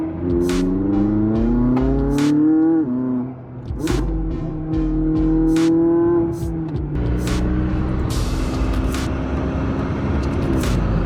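A McLaren 600LT engine revs hard and climbs through the gears, loud and close, with sharp shifts and a roaring surge that keeps building.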